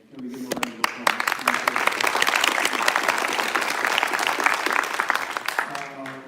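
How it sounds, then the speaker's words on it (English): A town hall crowd applauds for the police department, starting with a few scattered claps that swell into a full, sustained round of many hands before tapering slightly at the end, with faint talk underneath. "Can we give them a round of applause?"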